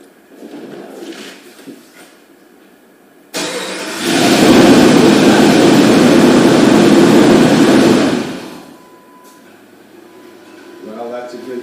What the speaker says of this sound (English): I'm going to try cranking it to see if it'll start now